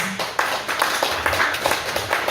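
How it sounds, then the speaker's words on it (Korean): A church congregation claps together in steady, dense applause that lasts a couple of seconds before fading out. "우리 장로님 나오실 때 박수 함께 드리겠습니다."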